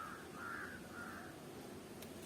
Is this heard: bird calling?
yes